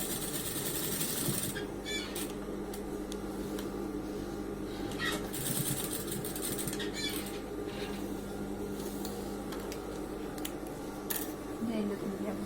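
Sewing machine stitching the final topstitch seam on denim jeans, a steady continuous mechanical whir running close and loud throughout with faint handling noises.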